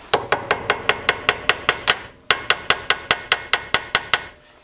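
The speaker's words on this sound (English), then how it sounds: "just give it a little bash with the hammer" Metal hammer tapping a part into place on a car wheel job, a steady run of sharp ringing strikes, about a dozen in a row, a short pause, then another even series, close and loud.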